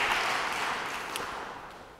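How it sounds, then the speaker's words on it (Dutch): An audience applauds a lecturer, Dr. Edwin Pos, before an evening talk on evolution theory: a short burst of dense clapping that starts full and fades gradually over about two seconds, with no talking. "een groot applaus voor Dr. Edwin Pos"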